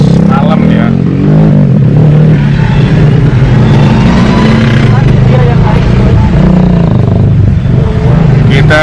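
Heavy, jammed traffic of cars and motorcycles near the Pekan Raya Jakarta fairground close to midnight: a loud, continuous engine rumble and revving fills the whole stretch, with voices mixed into the din.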